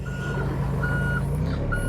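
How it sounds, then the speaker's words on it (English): Travel alarm on a new John Deere 26P compact excavator, beeping steadily in a regular repeating pattern over a constant engine drone, close and loud with no talking. "like you heard that beeping going on, even if I was going forward or backward"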